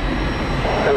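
Southwest Airlines jet airliner, flight 146, at Tampa airport heard up close: a loud engine roar with a rising whine near the end, and a voice talking over it.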